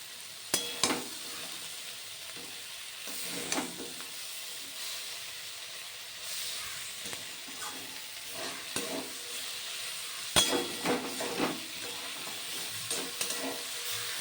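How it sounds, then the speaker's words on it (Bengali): Fenugreek greens being stirred in a pan over a soft sizzle, with repeated scraping strokes of a spoon every second or so, close and moderately loud, no voices. "ভালো করে নাড়াচাড়া করে মিশিয়ে নিলাম"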